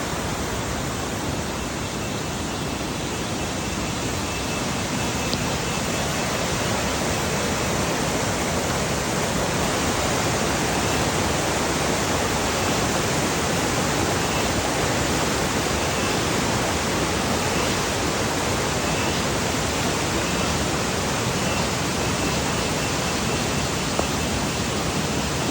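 Kurichar Mala waterfall pours in a constant, broadband roar of rushing water, loud and steady for the whole stretch, with no talk over it.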